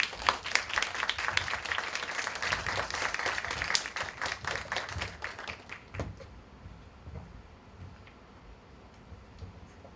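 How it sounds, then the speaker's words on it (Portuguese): An audience claps loudly for a speaker at a Portuguese-language religious talk. The applause thins and fades out after about six seconds, leaving near silence with faint room noise. "Aplausos para o palestrante Igor Menezes Augusto."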